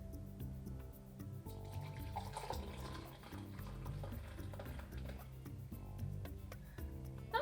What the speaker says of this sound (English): making sure that I actually pour it into the mug